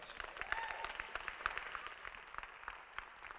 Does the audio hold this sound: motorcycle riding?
no